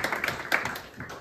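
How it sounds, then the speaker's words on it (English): A short burst of a few scattered hand claps from a church congregation, uneven and light, fading after about a second. "Let's give ourselves a round of applause for doing that."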